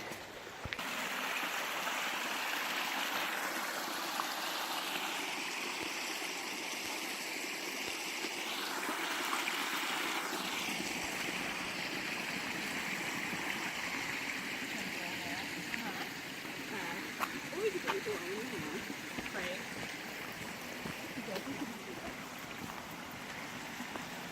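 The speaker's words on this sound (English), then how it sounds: "Stream's getting bigger as we get lower." A forest stream flows steadily along a wooded hiking trail, a continuous close rush of water that stays even throughout. A few faint knocks and rustles sound beneath it.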